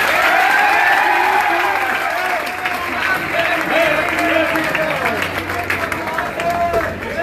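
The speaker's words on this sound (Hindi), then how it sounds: "एक बार जोरदार ताली फिर से बजाओ" Loud crowd applause for Teachers' Day at a welcome gathering, with children's voices and cheering mixed into the clapping, continuous and close throughout.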